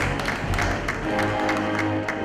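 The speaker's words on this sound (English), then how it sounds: "a big round of applause for him, please." An audience at a philanthropy awards night in Bengaluru applauds in a steady wash of clapping, with a few louder claps standing out, continuous throughout.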